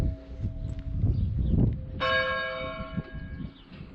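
A church bell tolled for Prince Philip's funeral, heard at an outdoor van meet in Stafford, UK: one clear, ringing strike that hangs and fades over low background murmur and movement.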